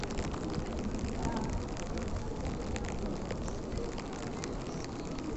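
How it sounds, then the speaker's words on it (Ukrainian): Steady rain falls outside St. Vitus Cathedral in Prague, a continuous broadband hiss that stays even and fairly loud throughout without any talk. "Але дощ, мабуть, бачите"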